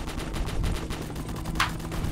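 Rapid gunfire and explosions from the Roblox Base Battles game rattle in a dense, continuous burst, with a brighter sharp crack standing out near the end.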